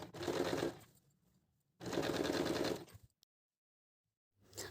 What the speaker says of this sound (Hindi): अब हम इसको ऐसे सिल देंगे।